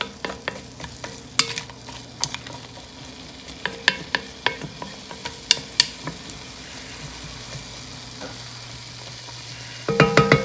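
A spoon stirring chicken noodle soup in a pot, with scattered soft scrapes and clinks over a low simmering bubble, then a louder clatter at the end.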